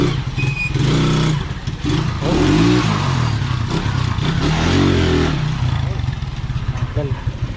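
A Rusi 125 motorcycle engine converted to 150cc with a stock head revs up and down repeatedly, close and loud, with its pitch sweeping in several rises and falls over a steady running rumble.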